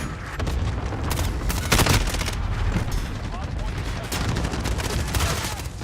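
Rapid bursts of gunfire from a shooter video game, dense cracking volleys and a heavier boom, loud and continuous, with a player's voice mixed in.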